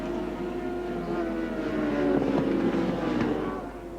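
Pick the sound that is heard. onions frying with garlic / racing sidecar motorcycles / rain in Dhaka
racing sidecar motorcycles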